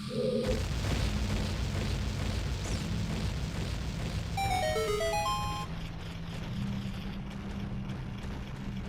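Bomb flower explosions in The Legend of Zelda: Ocarina of Time set off a chain reaction that brings down stairs. A steady rumbling boom runs throughout, and a bright, rising chime jingle cuts through it midway.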